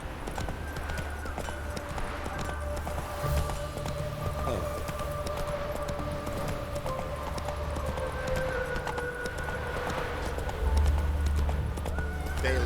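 Horse hooves clip-clop steadily in the video game The Witcher 3: Wild Hunt, with a whinny and ambient city background under the rhythmic hoofbeats.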